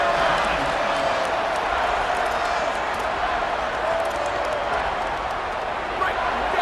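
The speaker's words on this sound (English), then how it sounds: "This crowd rising up, sensing that its defense needs some help" A stadium crowd in EA Sports College Football 27 roars in a steady, dense wash of cheering that rises slightly, with a commentator talking over it.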